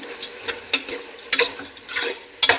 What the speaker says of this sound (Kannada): ಸ್ವಲ್ಪ ಕಲ್ಲುಪ್ಪನ್ನ ಮಿಕ್ಸ್ ಮಾಡ್ತಾಯಿದ್ದೀನಿ